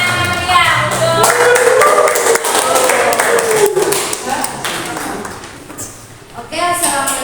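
Clapping from a class group in an Indonesian classroom lesson, sharp hand claps over voices and crowd chatter, fairly loud and close, fading partway through.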